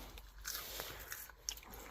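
Crisp crunching bites into chips made on the premises at a fish and chip shop in Robin Hood's Bay, with a few sharp crackly bursts close to the microphone and no talking.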